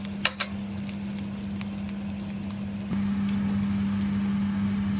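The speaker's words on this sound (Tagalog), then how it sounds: "Ongoing pa yung pagluluto ng adobong pusit." Adobo squid, adobong pusit, simmers with a bit of liquid in a pan, giving a steady close sizzle over a low hum, with two brief clinks at the start.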